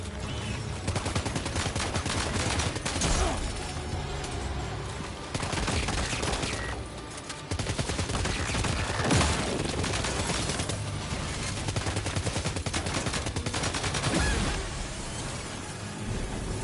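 Rapid gunfire from an assault rifle, grenade pistol and other weapons during combat in the video game Death Stranding 2: On The Beach, dense loud bursts and blasts continuing almost without pause over a busy game soundtrack.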